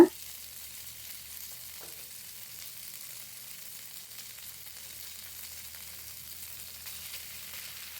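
Millet vermicelli is stirred in a hot pan with sautéed onions, producing a soft, steady frying hiss that is faint and even throughout, with a brief knock at the start.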